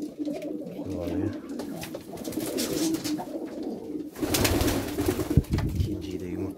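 Pigeons coo repeatedly at night while being fed, their soft throaty calls mixing with rustling, flapping and muffled talk in the background.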